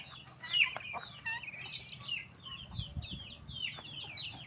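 Free-range backyard chickens cluck repeatedly among ducks, a scattered flock of short nasal calls near and far over a low murmur, continuing throughout.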